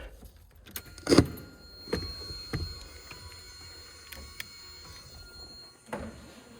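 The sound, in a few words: power window motor of a 1984 Mazda RX-7 moving slowly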